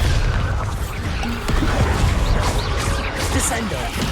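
A Bombarda blasting spell detonates in Hogwarts Legacy, a deep booming explosion with rumbling low end and crashing debris that swells midway and stays loud throughout.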